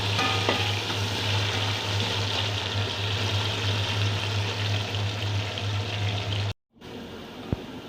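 Chopped onions fry in hot ghee in a large pot for a Bakra pulao, a steady dense sizzle and crackle holding close and loud throughout, broken by a brief drop to silence near the end before the frying resumes.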